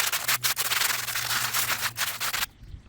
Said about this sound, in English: I'm just doing the exact same thing, just scrubbing the top of it, because you can get some soot and ash buildup on the top as well.